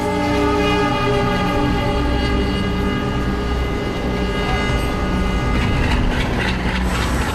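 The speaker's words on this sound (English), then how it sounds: "You'll see an approaching train to the station." A train rumbles loudly and continuously, with a sustained horn tone and rail clatter as it approaches a station in Mumbai.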